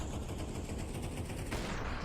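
Rapid gunfire crackles through a competitive shooter match at a BLAST Open London esports event, a dense continuous rattle of shots with a sharper burst near the end and no speech.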